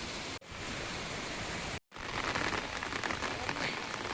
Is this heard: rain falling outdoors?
yes